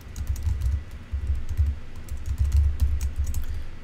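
A computer keyboard tapped in a steady run of close keystrokes as a root password is entered, continuous typing with no talking.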